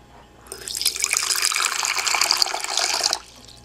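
Rainwater pours into a collection tank feeding a drinking and shower supply, a bright, splashing rush that starts abruptly, runs steadily for a few seconds, then cuts off, with no voices.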